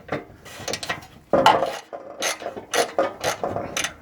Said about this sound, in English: So now I secure the heat shield.